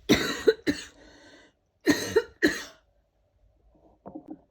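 Two bursts of harsh coughing, two or three coughs each, loud and close, followed by a brief faint sound.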